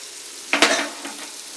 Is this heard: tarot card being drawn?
no